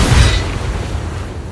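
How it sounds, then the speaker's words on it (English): Booming Blade spell impact from Baldur's Gate 3: a deep, loud boom bursting at the start, then a rumbling decay that fades over about a second, with no voices. "We'll go another booming blade."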